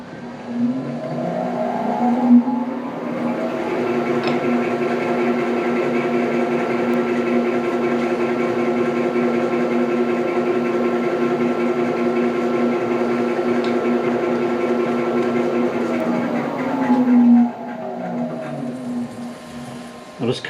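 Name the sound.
JFMT 530 x 2000 lathe running in back gear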